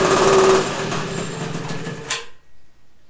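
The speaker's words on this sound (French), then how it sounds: "Deuxième coup de lanceur." A Motoconfort 40V moped's small two-stroke engine is pull-started and runs with a rapid, buzzy high-pitched putter, loud and close, then cuts out abruptly after a final burst, leaving near silence.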